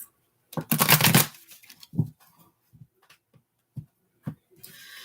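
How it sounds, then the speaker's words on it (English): Tarot cards being shuffled up close: one brisk, papery riffle burst, then a few soft, scattered taps and card slaps as the deck settles, with no one talking. "One more shuffle for Gemini, please."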